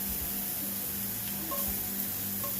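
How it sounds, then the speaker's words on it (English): Onions hit a hot pan for coconut curry chickpeas, producing a continuous soft hiss and crackle that stays level throughout, with a few faint pops and no talking. "And then I'm going to add my onions."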